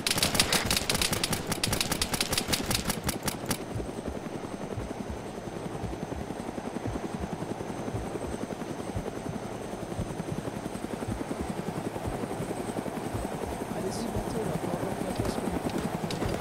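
A military helicopter in the Arma 3 video game keeps up a loud, steady rotor thump through the whole stretch. Voices are heard over it now and then.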